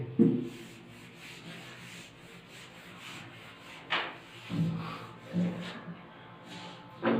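A board being rubbed clean during a trigonometry lesson, several separate swishing wipes of a duster that start quiet and then come in louder bursts near the end, close by, with no speech over them.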